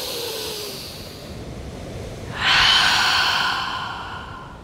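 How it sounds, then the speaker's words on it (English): Deep breathing during a yoga forward fold in a flow session by the sea: a long, soft exhale followed by a louder, close breath, with a faint steady background hiss. "Just breathe here."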